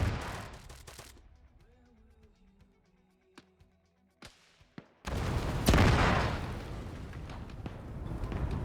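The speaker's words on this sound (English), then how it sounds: "Secondary explosion." Artillery strike in a military video game during a winter raid: a heavy blast, scattered sharp cracks, then a loud sustained rumble of explosions that dominates the end.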